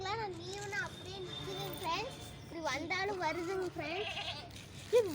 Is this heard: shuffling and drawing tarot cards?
no